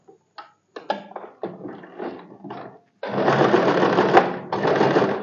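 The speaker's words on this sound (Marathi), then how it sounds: "इथे फक्त 2 स्टिच मारून घ्यायच्या" Blouse lining fabric stitched on a sewing machine: a few slow, uneven clicks and short bursts as stitches are started, then a steady, loud, close mechanical whirr running continuously with a brief pause.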